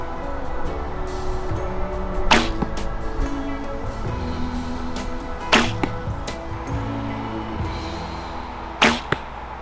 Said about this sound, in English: I'm really just shooting this to see so you can see how loud it is.